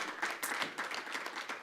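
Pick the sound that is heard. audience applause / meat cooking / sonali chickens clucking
audience applause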